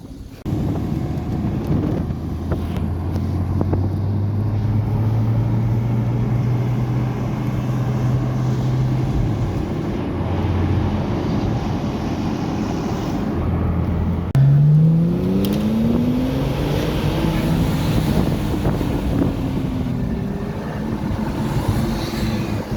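Porsche flat-six sports cars at the Lohéac circuit, a steady low engine drone under heavy wind buffeting, then a rising rev sweep partway through as one accelerates past, with no talking.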